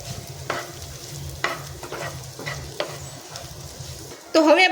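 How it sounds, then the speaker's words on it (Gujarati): Capsicum, cabbage and carrot stirred in a hot pan, with soft sizzling and several scraping strokes of a spoon through the vegetables, and a louder clatter at the very end. "તો હવે આપણે બધું જ 2 થી 3 મિનિટ માટે સાતળી લઈશું"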